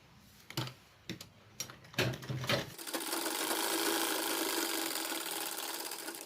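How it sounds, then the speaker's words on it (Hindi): Sewing machine stitching fabric for a homemade lunch bag: a few short stuttering bursts of needle clatter, then a steady, close, continuous mechanical whir running for several seconds with no talk. "अभी हम यहाँ से इस तरह से सिलाई करेंगे।"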